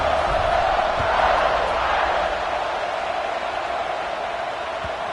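A dense roar from a college football stadium crowd cheering at kickoff in an Illinois vs Notre Dame game, a loud, steady wash of voices that stays sustained throughout and eases slightly toward the end.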